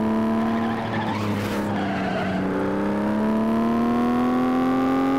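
A race car in the video game FlatOut skids through a corner with a loud tire squeal, then its engine revs rise steadily in pitch, close and continuous, with no voices.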